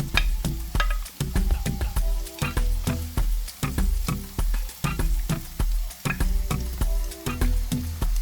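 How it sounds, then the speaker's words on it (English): Onions and green onions sauté in a pan for a corned beef and cabbage dish, giving a steady close sizzle with repeated sharp clicks and scrapes of stirring throughout, no voices. "my green onions, and I'm just gonna saute this"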